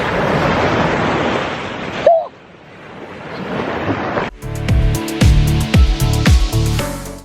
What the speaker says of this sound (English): beach is so pretty and the water's so cold.